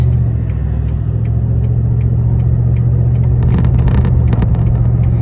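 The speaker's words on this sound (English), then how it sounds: "And there's road traffic over here" Steady road traffic rumble and a car engine heard from a vehicle stopped at the roadside with hazards on, a continuous loud drone that swells slightly toward the end, with no talking.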